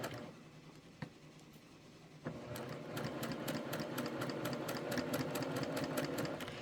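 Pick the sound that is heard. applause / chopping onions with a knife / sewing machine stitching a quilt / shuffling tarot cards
sewing machine stitching a quilt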